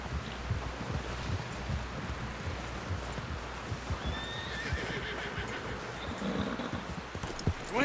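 Hooves clip-clop at a walk in Red Dead Redemption 2 as a horse arrives at camp, with outdoor wind and rustling, brief whinnies partway through, and faint, sparse voices.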